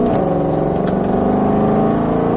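A car accelerates hard on a race circuit, its engine note droning loud and close with a steady rising hum and no break in the sound.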